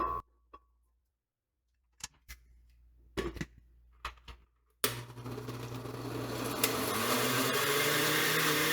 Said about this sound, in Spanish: En la licuadora vamos a poner los frijoles y los vamos a licuar hasta obtener una crema